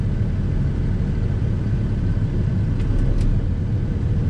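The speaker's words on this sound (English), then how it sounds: "I'm gonna go ahead and place the vehicle in low gear and attempt to move the truck" Truck engine in low gear straining against the set parking brake during an air brake inspection, a steady, loud, close low rumble that holds evenly throughout with no talk.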